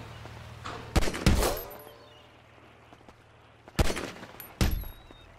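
Gunfire in GTA 5 cracks out in two close pairs of sharp, loud shots separated by a quiet pause, each burst ringing briefly over a low steady hum.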